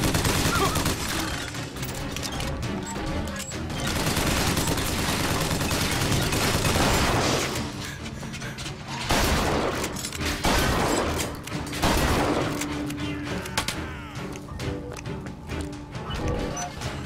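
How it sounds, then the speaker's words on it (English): The crank gun in BioShock Infinite fires in long, rapid rattling bursts, loud and close, with short gaps between volleys amid the clatter of heavy combat. "the crank gun is really powerful, and so it's pretty balanced how quickly it runs out of ammo"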